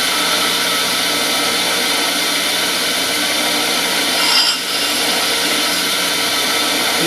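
A router bit is ground against a sharpening tool to put a new edge on it, a loud, close, continuous abrasive whir with a brief dip near the middle.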